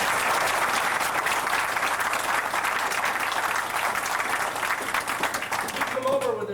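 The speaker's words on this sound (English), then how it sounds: "So give him a round of applause." A martial arts seminar audience gives a full round of applause, loud and continuous clapping throughout, with a voice starting to speak just as it winds down.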